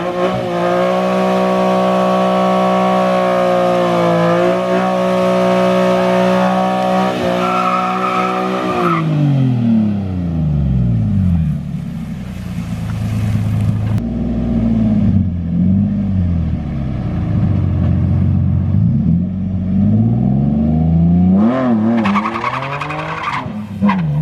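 A drift car running a burnout before a drag race roars at high revs with loud tire squeal, then the engine note drops and wavers as the tires keep screeching, close and continuous.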